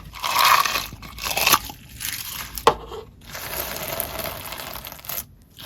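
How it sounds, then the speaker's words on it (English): Crisp crunching and crackling from a squished textured slime, with small popping bursts, close and steady throughout. "it has really great crunchy ASMR, nice bubble pops"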